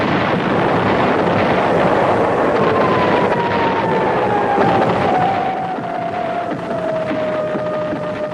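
A loud, continuous roar of heavy aircraft engines from B-52 bombers on bombing missions, dense and sustained with a slowly falling whine across it and no talk.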